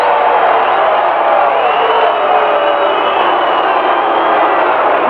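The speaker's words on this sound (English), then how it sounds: "you can hear the reaction of the crowd" Stadium crowd at a 1984 USFL divisional playoff football game reacting to a touchdown wiped out by a flag, a loud, steady, continuous roar of massed voices with no clear breaks.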